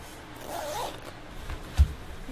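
A clothing zipper is pulled closed once in a quiet room, a soft rasping slide ending in a brief tick.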